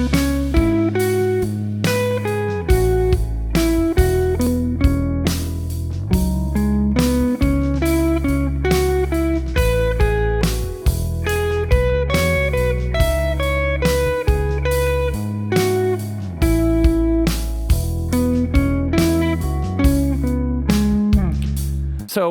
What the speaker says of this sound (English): when they solo, they probably sound something like this when they're playing with a pentatonic scale.